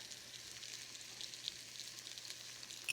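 Onions with a little sugar sizzling in a hot pan, a faint, steady crackling hiss with small scattered pops, quiet and even throughout.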